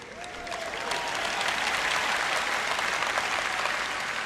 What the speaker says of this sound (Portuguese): Uma salva de palmas para o Dave ali.